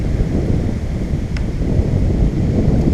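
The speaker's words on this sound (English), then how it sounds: "Oh, this wind is torturous." Steady wind roars and buffets the microphone out on the water during kayak fishing, a continuous low rush with no clear pauses.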